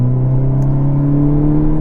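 A 2022 Hyundai Elantra N idles with its exhaust set to the loud mode, a deep, steady, throaty drone held close and constant for under two seconds without any revving swell.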